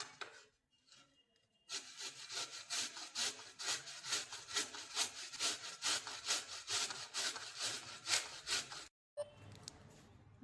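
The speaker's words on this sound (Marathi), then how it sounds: "हळद आपली स्वच्छ करून झालेली आहे, आता आपण हे किसून घेऊ।" Fresh turmeric root rasped steadily on a grater, a close, rhythmic series of quick scraping strokes running for several seconds before a brief pause and a few final scrapes.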